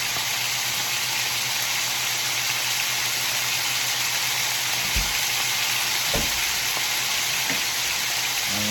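Garlic, chili powder and spices sizzle steadily in a pot as they fry, with a constant dense crackle and a few soft knocks of a spoon stirring through.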